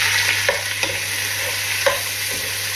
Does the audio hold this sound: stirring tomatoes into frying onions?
yes